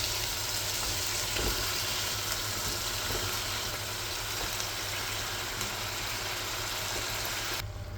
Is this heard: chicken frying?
yes